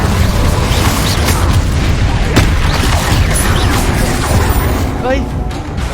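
Confringo blasting spell in Hogwarts Legacy detonating as a loud, dense boom with crackling debris and fading rumble, mixed with busy game effects throughout.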